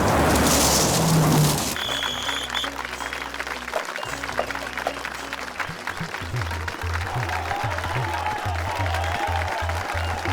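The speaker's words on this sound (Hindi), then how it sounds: "अब वो लोग जोर से ताली बजा के पहलवान लोग के स्वागत करी।" A crowd claps loudly to welcome wrestlers at a village event. The dense applause runs continuously over a low background rumble, with voices mixed in.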